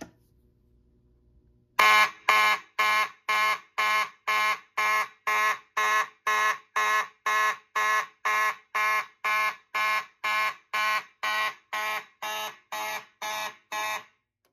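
After a faint low hum, a Simplex 2901-9833 fire alarm horn on a Simplex 4001 panel set to march time starts blaring in rapid, regular pulses, repeating steadily about twice a second until it cuts off.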